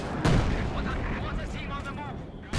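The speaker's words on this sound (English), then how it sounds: "Artillery awaits your orders." Artillery barrage in Company of Heroes 2 with a heavy boom early on, followed by rumbling battle noise and distant whistling shells, while game voice lines sound over the top.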